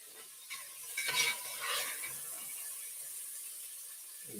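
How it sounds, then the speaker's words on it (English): Beef seared and stirred in a pan for beef barley soup gives a steady faint sizzle, with a few scraping stirs near the start. "Just stir it around, give it a bit of a sear."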